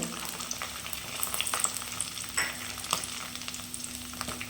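Curry leaves, onion and garlic sauté in oil after popped mustard seeds for a turkey berry kara kulambu, a steady close sizzle with frequent scraping and clinking of a spoon stirring the pan.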